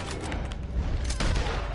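Gunfire in Red Dead Online comes as a rapid, crackling fusillade of overlapping shots over a rumbling low backdrop, moderately loud and steady throughout.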